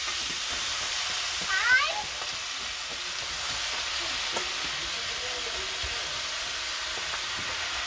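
Malabar spinach frying in a pan with a fried fish head, making a steady hissing sizzle throughout, with a brief clatter near the start.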